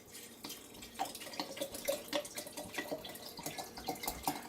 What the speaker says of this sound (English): now I'm going to top it off with my filtered rainwater